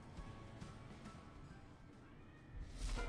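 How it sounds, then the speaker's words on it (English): A house cat meows and yowls nearby, fairly faint beneath steady background game music and ambience, with a louder burst near the end. "My cat is going absolutely nuts right now"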